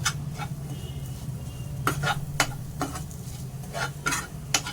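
Eggplant and potato stirred and sautéed in a pan for a Malvani-style vegetable dish, with a steady low sizzle under repeated sharp scraping strokes of a spoon against the pan.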